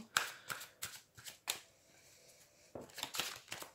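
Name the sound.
shuffling tarot cards for a reading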